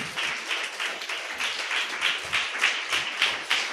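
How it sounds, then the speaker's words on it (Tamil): A church congregation claps their hands together in a steady rhythm, the repeated claps loud and close with no voice over them. "நல்ல 2 கையை தட்டி தேவனை மகிமைப்படுத்துங்க"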